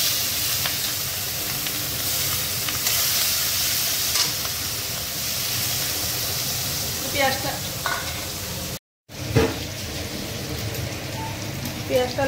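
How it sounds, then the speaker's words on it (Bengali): Onions frying in hot oil with two dried red chillies and nigella seeds, a steady close sizzle with brief stirring scrapes, one short cut near the end, then the sizzle resumes. "পেঁয়াজটা লাল করে ভাজবো"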